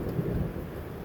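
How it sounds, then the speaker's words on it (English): Thunderstorm with steady heavy rain hissing throughout and a deep rumble of thunder swelling near the start, loud and close, with no voices. "just letting y'all see a little bit of this storm that's going on"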